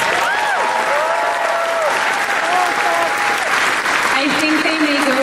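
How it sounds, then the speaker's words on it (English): A large convention crowd applauds at a closing ceremony, with dense clapping throughout and whoops and cheers rising over it. "who wants to give a round of applause for our dogs that did so well this year?"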